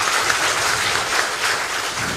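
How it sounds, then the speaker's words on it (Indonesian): Applause from an audience at a Ministry of Health talk show, a dense, steady wash of clapping lasting a couple of seconds with no voices over it. "Boleh berikan tepuk tangan."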